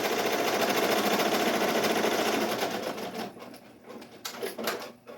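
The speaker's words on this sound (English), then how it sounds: "I'm going to hit start. And it's going to embroider the outline first" An embroidery machine stitches an appliqué outline in a loud, steady rapid rattle that stops partway through, followed by a few softer clicks and knocks.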